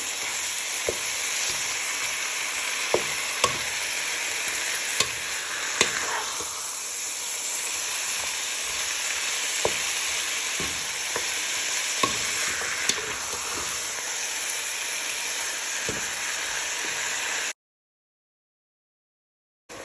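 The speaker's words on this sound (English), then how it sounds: "Just give that a little stir for a few minutes so it starts to bring out the flavours" Lemon and garlic chicken ingredients stirred in a hot pan, a constant close sizzle and hiss with scattered spoon scrapes and taps throughout, then a sudden cut to silence near the end.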